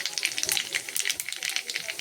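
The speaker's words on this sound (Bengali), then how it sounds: "তেল গরম হয়ে গেছে, কালো জিরে দিলাম।" Black cumin (kalonji) seeds crackle and sizzle in hot oil for a radish chhechki, a dense, bright, continuous frying hiss with rapid pops.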